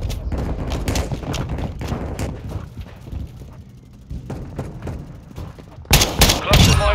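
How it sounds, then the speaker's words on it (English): Gunfire and a flash grenade blast in Call of Duty Modern Warfare 2, with scattered shots and mechanical clatter under game voice callouts, ending in a loud burst of explosive noise near the end. "Throwing flash grenade!"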